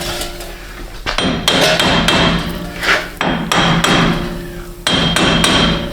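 A hammer strikes the steering knuckle of a 2017 GMC Canyon during a front wheel bearing job. The loud metallic blows land close by in quick bursts with short pauses between them, and no one speaks.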